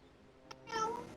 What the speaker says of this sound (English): I find it funny that her meow is so loud